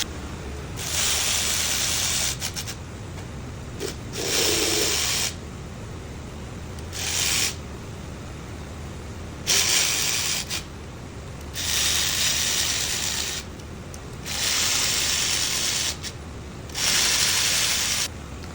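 Ratchet tool running down the cylinder head bolts on an LS engine build, repeated fast clicking bursts of a couple of seconds each separated by short pauses, close and fairly loud.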